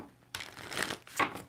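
Tarot cards being shuffled by hand in a few quick riffling bursts, close and fairly soft, with no talking.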